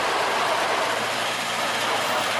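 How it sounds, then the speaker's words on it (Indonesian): An old sugar factory locomotive runs at PG Kedawung with its wheels slipping, producing a loud, steady broadband roar and grinding rush with no distinct beats, heard close. "Oke, lokomotif mulai berjalan kembali dan lagi-lagi roda lokomotif selip, teman-teman."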